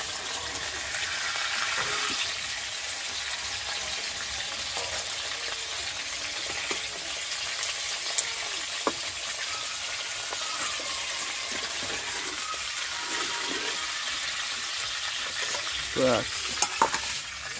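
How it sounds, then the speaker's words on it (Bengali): Small hilsa fish frying in a pan for a Bengali mustard curry, a steady close sizzle and crackle running throughout with a few sharper spatters and utensil clinks near the end. "ওদিকে মাছ ভাজাটা হচ্ছে।"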